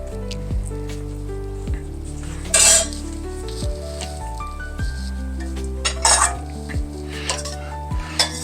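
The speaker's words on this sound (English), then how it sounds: "I'm going to scrape this off the side here because for some odd reason, like I said before in a couple of my videos, this little wok is great." A utensil scrapes and clinks against the side of a small stainless steel wok while shrimp stock cooks, giving several metallic scrapes and short ringing knocks over a low background simmer, with no talk.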